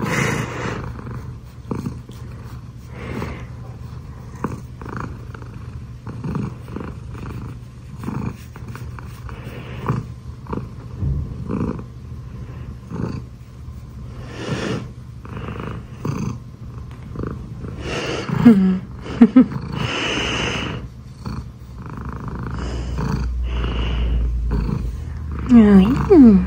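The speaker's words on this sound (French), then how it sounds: "Ça ronronne." A domestic cat purrs close by in a steady low rumble, with scattered rustling and handling noises throughout and a brief growl-like rasp late on, while someone speaks softly over it.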